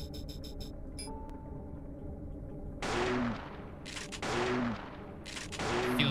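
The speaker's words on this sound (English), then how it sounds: "Let's shotgun him." Three heavy shotgun blasts ring out in the video game Parasite Eve II, each a loud booming crack with a rumbling tail, spaced a second or more apart with no talking.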